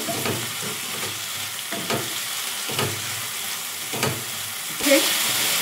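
Turmeric and cumin powder with ginger paste are stir-fried in a pan, a steady sizzle punctuated by regular spatula strokes about once a second, close and clear.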